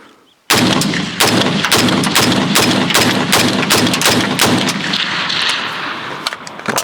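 Bear Creek Arsenal AR-15 rifle, fired for the first time, emptying a magazine: about a dozen loud, sharp shots at a steady rhythm, close by, with echo trailing between reports and no talking.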